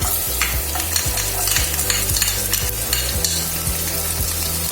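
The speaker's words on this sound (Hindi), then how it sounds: "और इसको थोड़ा भूनिए" Garlic frying in oil in a pan as the base for restaurant-style chilli chicken: a close, continuous sizzle with a spatula stirring and knocking in an even rhythm, no voices.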